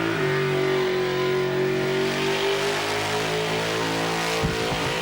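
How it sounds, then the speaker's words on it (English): A TD Cortina fitted with a 289 Windsor V8 holds a loud, steady rev with a deep droning harmonic tone, close by and sustained for several seconds, at a show and burnout event. "In a little TD Cortina with a 289 on board, a baby Windsor engine."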